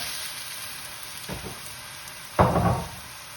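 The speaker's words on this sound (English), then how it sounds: "basically frying the noodle to make it crispy" Noodles hit hot oil in a wok for Hong Kong crispy seafood noodles, giving two short bursts of sizzling, the second louder and fuller, over a quiet hiss.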